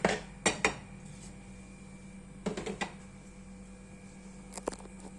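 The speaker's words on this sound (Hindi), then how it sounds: "अब इसे कर लेंगे अच्छे से मिक्स।" Utensils clink and scrape against a bowl as a chicken and potato kabab mixture with red chili powder is mixed, in short clustered bursts of tapping separated by quieter pauses.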